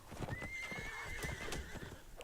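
A horse in a strategy video game neighs and whinnies in a long drawn-out call over steady clip-clop hoofbeats, as a unit steals the horse during a Black Eagle versus Frontline Tactics match.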